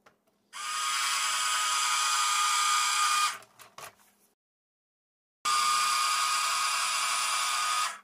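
Small Huina 1582 RC dump truck motor raising its metal dump box: a steady high electric whine for about three seconds, a few brief clicks, a pause of silence, then the whine resumes for nearly three more seconds, close and alone.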